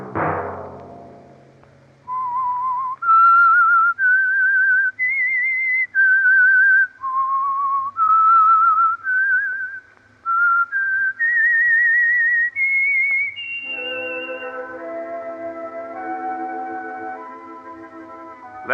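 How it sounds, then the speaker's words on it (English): A whistled theme tune for The Whistler radio mystery program, a clear melodic line of sustained notes rising and falling across several phrases, followed by an orchestral chord swelling in at the end. "Let that whistle be your signal for the Signal Oil program, The Whistler"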